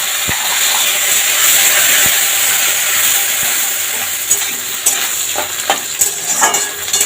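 Peanuts and coconut frying in a pan while making mochar ghonto, a steady loud sizzle with hiss throughout and a few scraping stirs toward the end.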